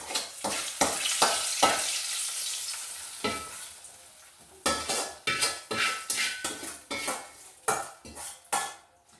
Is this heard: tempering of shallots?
yes